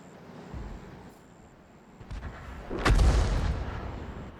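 World of Tanks video-game artillery, a 105 leFH18B2 self-propelled gun firing a high-explosive shell: a soft thump early on, then a loud, heavy boom with a rumbling tail.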